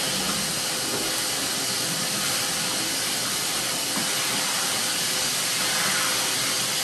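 Craftsman 12-gallon wet/dry shop vacuum suctioning: a loud, steady, broadband rushing roar of motor and airflow, close up and unbroken throughout, without any talking.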